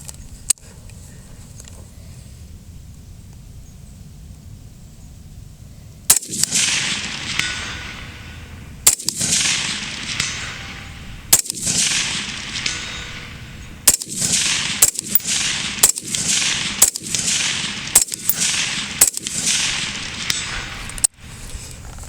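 Rifle shots from a BCM 14.5-inch mid-length build fired at a 300-yard target, about ten sharp, loud cracks spaced unevenly across the stretch, each trailing into a brief echo over outdoor background hiss.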